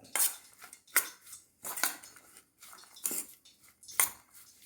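A spoon turns potato with chilli powder and curry leaves in a bowl, making a few separate scraping and clinking strokes roughly once a second, close and fairly quiet, with no voice.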